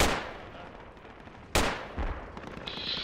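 Two loud, sharp rifle shots in Project Reality's Saaremaa map during a teamwork infantry squad game, one at the start and another mid-way, each decaying into a rolling echo, followed by a fainter thump and a thin high whine.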